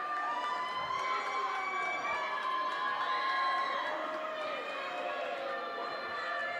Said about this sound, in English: Viking crowd unhappy with the call there